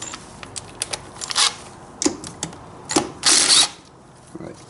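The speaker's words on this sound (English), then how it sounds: "we can go ahead and unbolt that 9 mil holding the cam chain basically on" A tool loosens the 9 mm bolt holding the cam chain on a KX250F dirt bike engine. Close, irregular sharp metallic clicks and ticks give way to a longer rasping scrape, then a few final taps.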